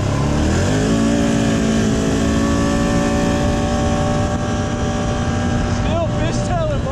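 A 2019 Can-Am Outlander XMR 1000 ATV drives and fishtails, its engine droning loud and close with rising revs, while someone talks over it.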